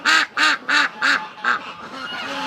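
Ducks from a backyard flock honking and quacking nearby, five loud evenly spaced calls followed by softer continuing quacks, with no talking.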